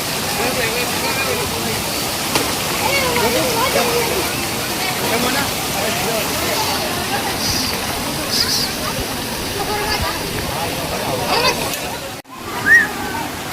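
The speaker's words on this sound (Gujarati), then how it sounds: "સરસ મજાનો ધોધ પડે છે, આપ જોઈ રહ્યા છો વિડીયોમાં." Waterfall pouring at Taleshwar Dham, a steady broadband rush of falling water that runs unbroken throughout, with voices talking faintly in the background.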